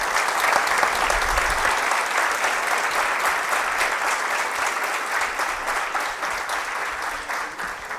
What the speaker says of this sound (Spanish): pedir un aplauso para el personal femenino